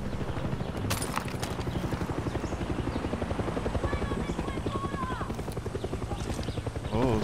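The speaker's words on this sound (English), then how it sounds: "Chopper." A helicopter in the video game Far Cry 6 drones steadily through the whole stretch with a pulsing rotor chop, mixed with other game sounds and brief voice bits.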